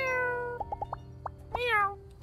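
Over a steady background tone in the video game My Time At Sandrock, a few short plucked blips lead into a single bright cat meow, near and distinct.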